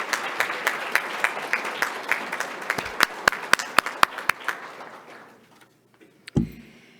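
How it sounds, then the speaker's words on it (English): Audience applause at a scholarship celebration, a dense patter of clapping that thins into several sharp isolated claps before fading out, followed by a brief thump. "Let's have another round of applause for these wonderful recipients."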